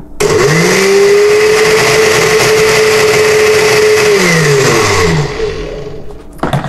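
A blender making a lavender blueberry smoothie whirs loudly and steadily with a sustained motor tone, then slows and winds down near the end.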